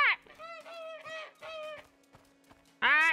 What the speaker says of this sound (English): I'm playing with the goose.